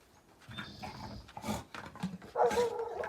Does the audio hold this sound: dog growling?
yes